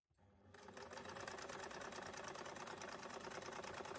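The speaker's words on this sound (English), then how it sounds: "Now we've got the ears to sew, so we have a white and a grey of both, and we're going to sew all the way around those two sides." A sewing machine runs steadily, stitching around the ears of a handmade soft toy bunny in white and grey fabric, a fast continuous whirring rattle that starts after a brief moment and carries on without pause, close and alone.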